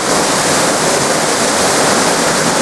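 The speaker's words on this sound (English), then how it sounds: "Whenever I come to a waterfall, I always like to look around to see if there's a religious icon here." Steady, loud roar of a waterfall beside a Japanese shrine, a dense, unbroken wash of falling water close by with no pauses or voices.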